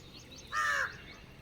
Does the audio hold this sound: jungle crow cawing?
yes